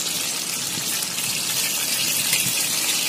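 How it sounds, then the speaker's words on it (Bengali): Bay leaf, cumin and dried chili tempering in hot oil, a dense, steady hissing sizzle, close and loud, without any talk. "আমি তেজপাতা আর একটু সাদা জিরা আর একটু শুকনো লঙ্কা আমি এটাতে ফোড়ন দিয়ে"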